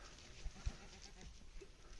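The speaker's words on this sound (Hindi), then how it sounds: "देखो आज हमारे टेक ऑफ में कितने सारे बकरियां, भेड़, हिल्लू, पता नहीं ये छल्ली बकर सब आ रहे हैं।" Goats and sheep gathered near a paragliding takeoff site on a hillside, faint bleats coming from a distance over a steady outdoor wind rumble, with a couple of soft thumps near the microphone.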